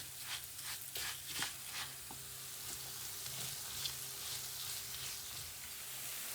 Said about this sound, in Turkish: Bulguru da katıyorum. Bulgurla birlikte kavuruyorum.